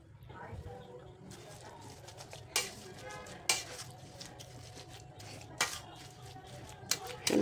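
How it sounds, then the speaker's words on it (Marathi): Jaggery being stirred into mashed pumpkin with a metal smasher, with soft scraping and clinks against the pot and several sharper knocks of the utensil, over a low background hum. "छान मिक्स होतं, त्यामुळे स्मॅशरने मिक्स करून घ्यायचे।"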